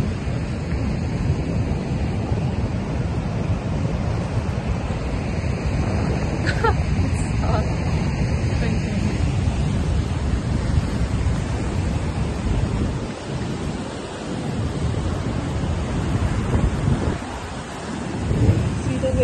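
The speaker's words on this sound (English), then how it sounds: "Waves. This is spectacular." Ocean surf breaking along the shore of Oahu, Hawaii, a steady broadband roar of waves with wind buffeting the microphone throughout, swelling slightly near the end, with faint voices in the background.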